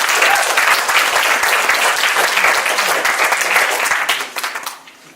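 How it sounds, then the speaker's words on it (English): Loud, sustained applause from a crowd at a memorial service, dense clapping that holds steady for several seconds, then thins and dies away near the end. "Yes, that's applause."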